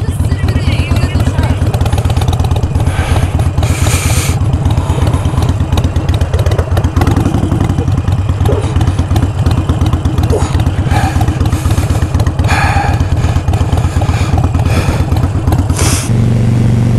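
A motorcycle engine idles in neutral after a crash on a second ride, giving a steady loud rumble with clattering through the whole stretch while people talk over it.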